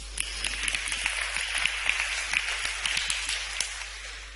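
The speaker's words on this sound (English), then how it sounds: "All together, please. Give a round of applause." Audience round of applause during a music lesson, a brisk, continuous clatter of many hands clapping together at moderate volume, with no speech over it.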